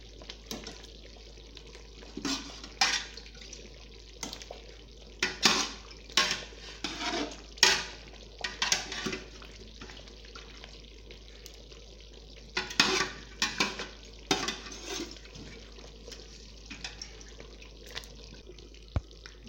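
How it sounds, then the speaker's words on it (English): A spoon stirs a pot of vegetable stew in short, scraping, sloshing bursts, a dozen or so irregular strokes against the pot, fairly faint and separated by quiet pauses. "Stir the pot."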